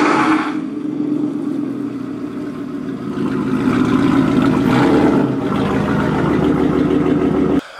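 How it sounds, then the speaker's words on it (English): A truck engine runs steadily with a deep, rumbling drone that swells slightly in the middle, loud and close, with no talk over it. "his truck sounds good."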